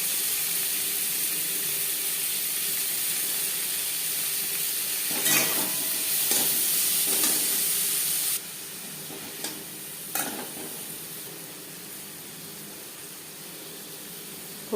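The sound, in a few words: chopped onion frying in oil in a kadai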